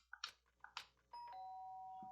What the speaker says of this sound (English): Sharp sound of the doorbell piqued my sleepy haze and pulled me back to the real world.